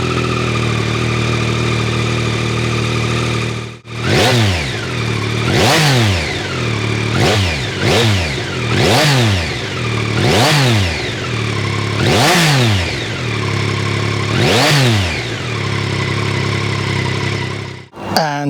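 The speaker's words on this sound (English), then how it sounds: "Let's start with the standard XSR with the standard exhaust on it." A 2024 Yamaha XSR900 motorcycle with its standard exhaust, heard starting up and then idling, with eight sharp throttle blips rising and falling in a loud, close rhythm before the engine cuts off.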